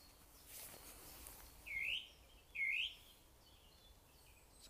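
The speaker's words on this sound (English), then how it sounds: "Some fantastic bird noises here." Two clear birdsong phrases ring out from a tree in the grounds of Scone Palace, each about a second long and moderately distant, over quiet outdoor ambience.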